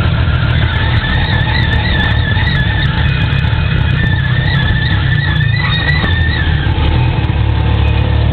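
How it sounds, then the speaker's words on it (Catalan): Tuk-tuk riding through the streets of Vientiane, Laos, badly in need of a brake check, its loud engine and road rumble running steadily throughout, with wavering high squeal-like tones drifting in and out over the drone. "vull que escolteu el soroll que fan els frens d'aquest vehicle"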